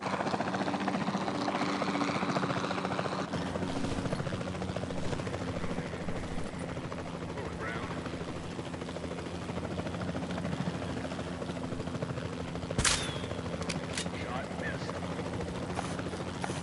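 A capture team helicopter drones steadily with a constant rotor whir at moderate distance, holding an even level for the whole stretch with a brief sharper burst near the end.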